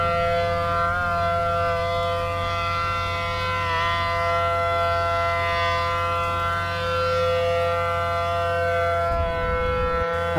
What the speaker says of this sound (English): the flippin' siren being more of a jump scare